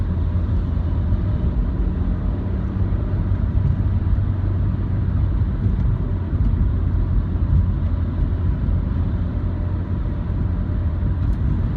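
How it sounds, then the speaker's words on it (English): Big industrial trucks roll past in a continuous, heavy low rumble of engines and tires, loud and steady for about twelve seconds with no talking over it. "The big old industrial trucks, they just don't give a fuck."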